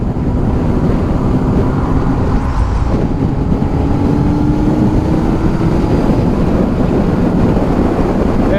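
A 2009 Honda CBR600RR motorcycle pulls in 6th gear, its engine drone slowly rising in pitch beneath heavy, constant wind roar on the road, loud and close.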